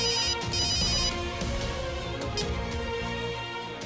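A telephone rings with a melodic ringtone, loud and steady for a few seconds, with no voices over it.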